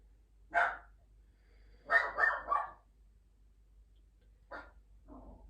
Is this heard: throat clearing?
no